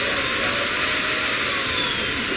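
A household vacuum cleaner or blower runs steadily and loudly at close range, a continuous even whine with no speech over it.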